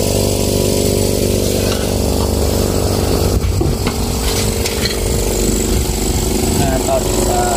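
A 600-watt air compressor with no air filter fitted runs steadily and loudly, its continuous motor drone and hum unbroken and close.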